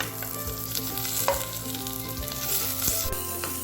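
Green chillies and tomato frying in oil for a prawn curry crackle and hiss continuously, with occasional clinks and stirring scrapes over a steady background hum.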